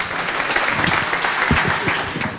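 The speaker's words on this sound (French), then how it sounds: "on l'applaudit" An audience applauds Gilbert Chouinard, a guest of honour at a community-television benefit dinner, with steady, dense clapping that fills the room throughout.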